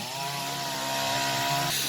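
Close by, a chainsaw cuts wood at Don Chao Pu Ta Na Mong with a loud, buzzing whine held at a steady pitch. The engine note shifts briefly near the end as the chain bites into the wood.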